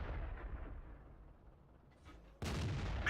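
A heavy tank cannon shot from a BatChat 25t in World of Tanks, with a big low boom fading away, then a second loud blast at the end, alone without talk.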